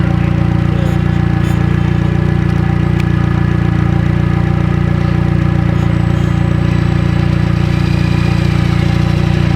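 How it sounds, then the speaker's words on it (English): A turbocharged Nissan S15 engine idles on a dyno with a loud, steady low drone and a faint high turbo whine above it, with no talk. "Crazy how fast that turbo is spinning just at idle."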